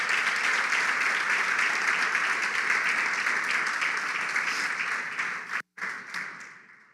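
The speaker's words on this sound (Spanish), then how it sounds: "Dale fuerte el aplauso al Señor" A church congregation applauds loudly and steadily, dense sustained clapping that fills the room, then it breaks off suddenly and a few scattered claps trail away.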